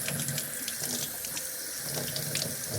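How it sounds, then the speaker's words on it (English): Cold water pours steadily from a tap into a sink, a loud, close, continuous splashing rush with no talking. "So you just run it under cold water for as long as possible."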